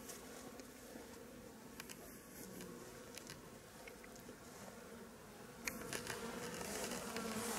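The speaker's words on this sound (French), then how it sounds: "les abeilles qui sont sur la planche d'envol" Honeybees on a hive's landing board in September, a dense steady buzzing swarm heard close up outdoors, continuous and faint with occasional louder passes near the listener.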